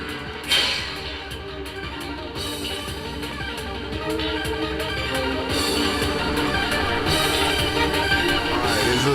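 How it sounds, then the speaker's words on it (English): Combat gameplay from the Warriors video game, played through a Sony SRS-WS1 wireless wearable speaker: a dense, steady wash of battle effects and hits with a sharp impact near the start, continuous and moderately loud. "This is the sound of some gameplay of Warriors."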